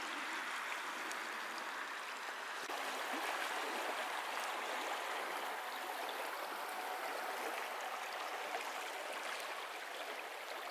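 A small stream in Scandinavia flows and babbles steadily, a continuous close rush of water with no voices.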